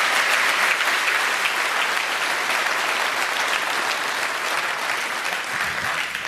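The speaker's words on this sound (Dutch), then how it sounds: "Maak een applaus voor deze betoefde juryleden" An audience applauds jury members at a Frisian business award ceremony, a dense sustained clapping from a large crowd that holds steady and tapers slightly at the end, with no talk over it.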